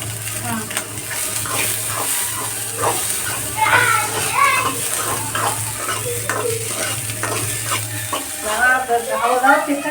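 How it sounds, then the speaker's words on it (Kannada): Oil sizzles steadily while snacks are fried and stirred in a pan, with scraping and clinking, a low hum underneath, and occasional voices in the background. "ಎಣ್ಣೆ ಉಪ್ಪು ಖಾರ ಹಾಕಿ ಫ್ರೈ ಮಾಡ್ತಾರೆ"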